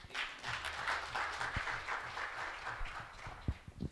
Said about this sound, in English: A round of applause to our entrepreneur.